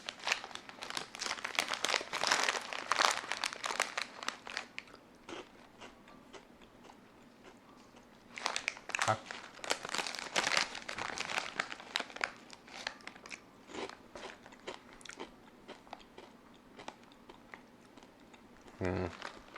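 A bag of protein chips being handled and the chips crunched, with bursts of crinkling plastic and repeated crisp bites and chewing close to the microphone, fairly quiet overall.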